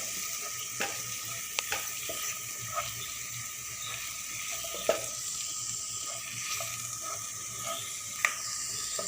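Soya chilli with added chilli powder sautés in a pan, a soft, steady sizzle broken by occasional light clicks and scrapes of stirring, fairly quiet and without speech.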